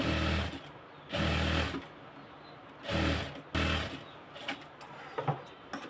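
An electric sewing machine stitches fabric in three short, steady whirring bursts of about a second each, separated by pauses with light handling clicks, close and clear.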